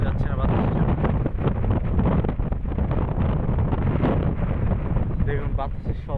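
Strong storm wind buffets the microphone outdoors beside flooded paddy fields, a loud, continuous roaring rush with gusty swells.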